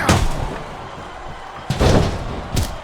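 Heavy sledgehammer strikes land in the wrestling video game WWE SmackDown vs. RAW 2008. Three loud, booming thuds hit at the start, middle and end, each dropping off quickly, with no talking.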